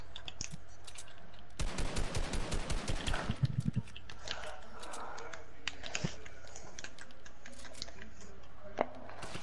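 Hip-fire gunfire in the game Fortnite crackles as a rapid automatic burst of close shots, followed by scattered clicks and softer game sounds under a faint background hum.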